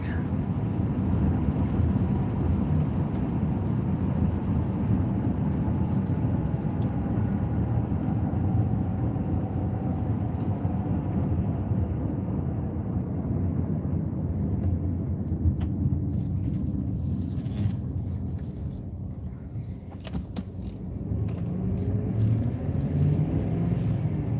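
A car cruises steadily along a road on a cold day, a continuous low engine and tyre rumble with wind noise filling the cabin, no talking, dipping briefly before resuming at the same level.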